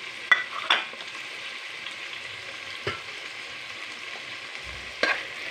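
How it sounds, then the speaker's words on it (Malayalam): Garlic and fennel seeds fry in a pan with a continuous bright hiss, broken by a few scraping stirs of a spoon; close, moderately loud, no voices. "നമുക്കതൊന്ന് ഇളക്കി കൊടുക്കാം."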